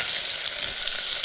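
Garlic tempering for a chicken curry sizzles on a wood-fired village stove, a loud continuous frying hiss close by with no voices.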